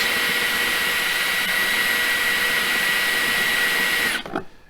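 A case trimmer shaves the mouth of a brass 300 Blackout cartridge, giving a loud, steady whine that runs continuously for about four seconds before cutting off abruptly and spinning down.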